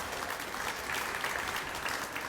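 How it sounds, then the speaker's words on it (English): A crowd at an Austin back-to-school bash community event applauds its sponsors with steady, dense clapping that holds at an even level for about two seconds, with no voices over it. "Please thank all of our sponsors for supporting our efforts today with a nice round of"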